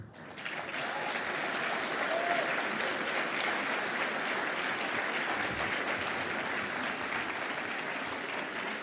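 An audience at a political party gathering claps in a sustained, dense round of applause that swells quickly and holds steady for several seconds.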